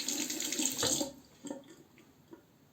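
A double edge safety razor is rinsed under a running tap, a close, steady splash of water that cuts off after about a second, followed by a few faint drips and taps.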